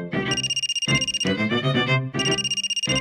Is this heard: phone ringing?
yes